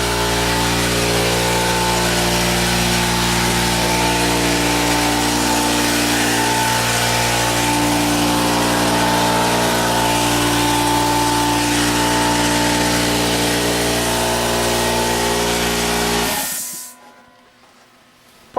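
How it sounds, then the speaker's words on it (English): An air compressor runs steadily in a workshop at loud, constant volume with a droning motor hum and hiss, then cuts off abruptly near the end, leaving quiet. "Sorry about that, compressor."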